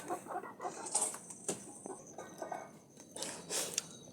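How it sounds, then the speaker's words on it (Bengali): Small young backyard chickens cluck in short, scattered bursts at moderate distance, with faint rustling and background noise between calls and no voices. "আর ওখানে আছে সে ছোটো ছোটো বাচ্চা মুরগি"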